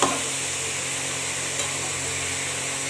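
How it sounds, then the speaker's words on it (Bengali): Cabbage is stirred into fried vegetables in a pan, giving a dense, steady close hiss of frying with a soft knock or two from the utensil and no talking. "বাঁধাকপিটা দিয়ে এবার আমাকে সুন্দর করে নাড়তে হবে।"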